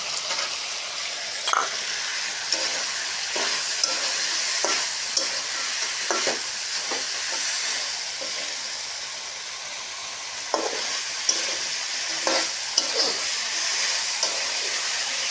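Prawns are stir-fried in a pan with a soft, continuous sizzle. Irregular scraping and clinking stirs recur across the whole stretch at a moderate, close level, with no speech.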